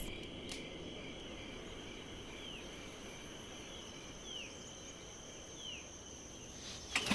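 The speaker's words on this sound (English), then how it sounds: "Tonight, crickets." Crickets chirp at night, a faint, steady high-pitched trill with soft repeating pulses over a quiet outdoor background, ending with a brief knock.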